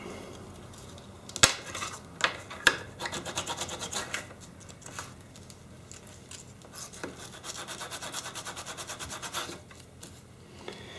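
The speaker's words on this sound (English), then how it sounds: "try and file it" Small rusty metal parts being filed by hand, a steady rasping scrape in repeated strokes with a few sharper knocks early on, close and fairly quiet, with no talking.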